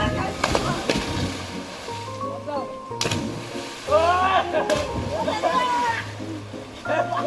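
Water splashes as people jump off a bridge into a village river after rain, irregular bursts of sloshing and splatter amid steady talk and shouting nearby.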